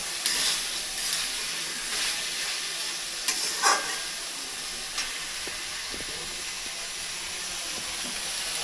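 Cumin-paste masala for a hilsa curry with eggplant and stems is sautéed in a pan, making a steady soft sizzle and hiss with a few sharp scrapes and clinks of stirring. There are no voices.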